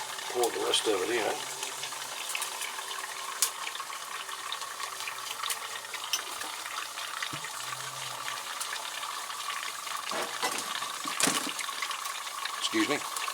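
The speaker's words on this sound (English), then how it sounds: "Go ahead and pour the rest of it in." Liquid nitrogen poured into a water-cooled RAM cooling loop gives a continuous gushing, boiling rush with occasional splashes and gurgles, close by and steady throughout.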